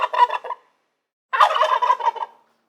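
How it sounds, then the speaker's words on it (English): Two bursts of a turkey's gobbling call, close and loud, each a rapid warbling rattle with a short silence between them. "They're known for their vibrant feathers and that famous gobble sound."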